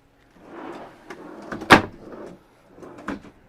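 Inside an RV kitchen at an RV show, a drawer slides open with scraping rattles and a sharp clack near the middle, followed by lighter rattling, close by with no talk.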